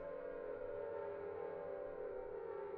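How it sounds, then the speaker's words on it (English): A steady, droning siren in the video game Silent Hill hums continuously at a low, faint level, unchanging in pitch, with no voices over it. "And the sirens are going off."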